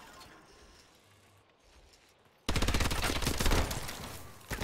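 Automatic gunfire in Call of Duty: Advanced Warfare co-op play, starting suddenly after a quiet stretch as a loud, rapid, continuous burst of shots that stays close and dominant until the end.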